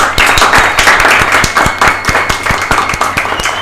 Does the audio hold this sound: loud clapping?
yes